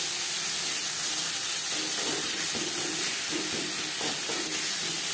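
Ol (elephant foot yam) leaf paste fries with garlic in a pan, giving a steady, loud hiss and sizzle that fills the whole stretch, with faint bubbling pops and no talking.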